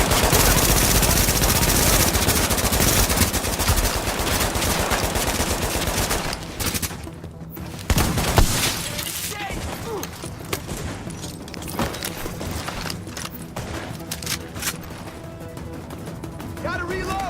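Sustained automatic gunfire from The Division video game, dense rapid bursts and shots, loud and close, with in-game voices speaking amid the shooting and a brief pause before firing resumes.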